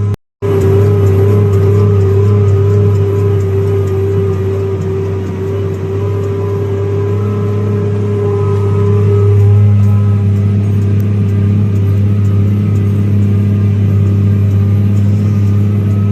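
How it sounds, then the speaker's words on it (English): A Case IH MX 270 tractor pulls a chisel plow through dry field ground, its engine holding a loud, steady drone with a deep hum and a strong tonal whine. The load shifts slightly partway through, and nobody talks. "Tractor actually gets a little light for this chisel plow, but add a little more ballast to it."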